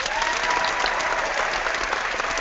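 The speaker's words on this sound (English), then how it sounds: "Let's applaud that." Applause from an audience in an online meeting, a dense, steady clapping that stays loud and continuous with no voices over it.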